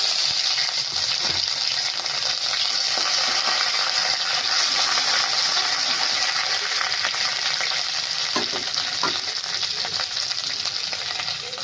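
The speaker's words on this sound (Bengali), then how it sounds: "ওর মধ্যে আমি 1 চামচের একটু কম আদা বাটা দিলাম।" Ginger paste sizzles loudly and steadily in hot oil over browned tempering spices for a vegetarian papaya curry, a dense continuous frying hiss with faint stirring scrapes and no talking.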